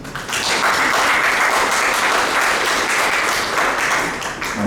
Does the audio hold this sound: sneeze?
no